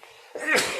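A single short, sharp sneeze bursts out abruptly after a near-silent moment, close to the microphone, during a podcast conversation in allergy season.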